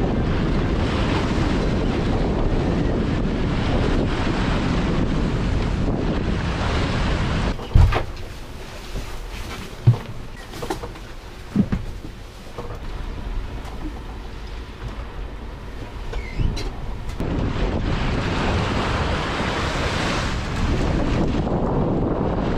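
Strong offshore wind roars over waves while sailing on the North Sea, a steady loud rush at the start and end with a quieter, gustier stretch in the middle broken by sharp knocks.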